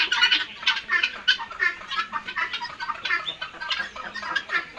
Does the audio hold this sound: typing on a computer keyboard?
no